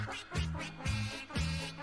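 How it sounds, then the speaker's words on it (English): A duck quacks in three loud, evenly spaced bursts, close and clear, with no talk over it. "you can coordinate things to duck sounds, I guess"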